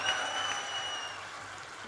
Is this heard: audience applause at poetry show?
yes